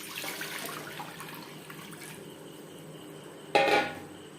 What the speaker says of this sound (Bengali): সবার প্রথমে খিচুড়ি রান্না করার জন্য একটা কড়াইতে দিয়ে দেব জল।